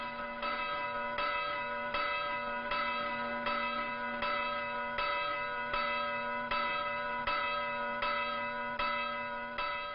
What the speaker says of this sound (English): You hear bells all over this island.